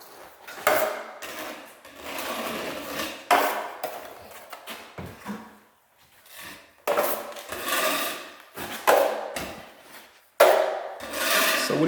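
Drywall joint compound spread evenly with a trowel or knife, repeated scraping strokes in bursts separated by short pauses, close and moderately loud.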